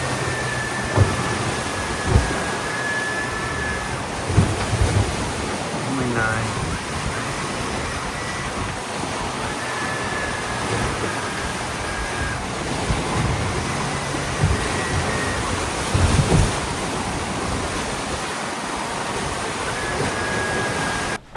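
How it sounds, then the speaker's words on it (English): Heavy ocean waves batter a sailboat at sea during a coastal delivery passage from New York to Savannah, with continuous roaring wash, wind rumble and intermittent thumps of water striking the hull. "the waves are getting pretty intense"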